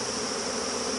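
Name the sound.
honey bees shaken into a plastic Tupperware bucket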